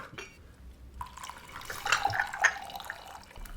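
Tea poured into a cup during a garden tea scene in a film, a steady thin liquid trickle rising and splashing softly for a few seconds, fairly quiet, no one speaking.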